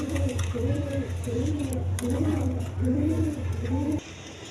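A pair of red garra pigeons cooing up close, a series of soft, repeated throaty coos in a bubbling rhythm, one after another, until a brief quieter moment at the end.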